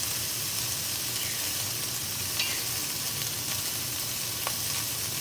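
Wet fried rice stir-fried and broken up in a hot pan, a constant loud sizzle and crackle of frying with faint scraping of the utensil, and no voices.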